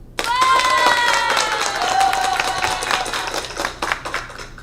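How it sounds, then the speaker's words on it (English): A round of applause from an audience rings out loud and close, dense clapping sustained for several seconds while a voice and music play over it, thinning toward the end. "a round of applause for the people in the audience"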